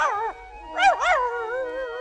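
A small dog yips and whines, then gives two quick barks followed by a drawn-out whimpering howl, close and clear.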